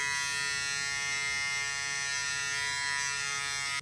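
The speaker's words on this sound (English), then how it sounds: "Now we're gonna be cleaning up the sides and the back of my head using the detail trimmer." Electric detail trimmer buzzing steadily close up as it cuts hair on the sides and back of a head during a home haircut, a constant motor whine with no talk.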